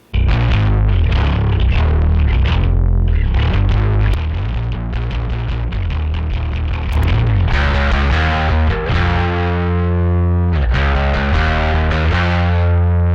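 A heavily distorted, compressed bass guitar plays loud, thick notes, gritty and sustained, with no voices.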